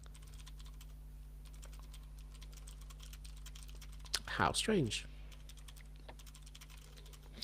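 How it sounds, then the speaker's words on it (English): Steady clicking of a computer keyboard runs throughout, close and fairly quiet, with a brief spoken remark in the middle. "I can very well hear some typing."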